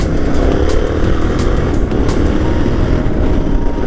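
Yamaha Tenere 700 adventure motorcycle, a 700cc bike at a desert race in Dubai, gives a loud, steady engine drone that runs without a break the whole time, with no talk over it.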